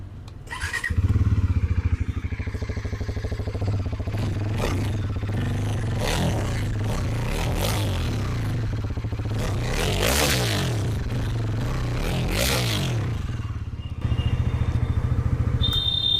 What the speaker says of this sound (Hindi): अब बात करते हैं about the exhaust note of Pulsar NS400Z।